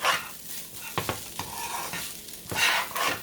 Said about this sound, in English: And we're stirring it around just to make the fried rice part of it.